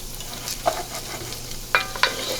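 Rice toasts in a pan for prawn risotto, a soft dry sizzle punctuated by several quick scraping stirs and light clicks of a spoon against the pan.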